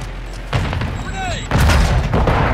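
A grenade blast in Call of Duty: Modern Warfare II multiplayer on the Crown Raceway map lands as a deep, booming thud after a brief pause, with game voice callouts and other combat sounds around it.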